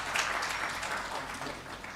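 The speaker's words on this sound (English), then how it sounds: "Kindly clap for yourselves." An audience at an engineers' day event clapping for themselves, a brief, steady patter of many hands at moderate distance.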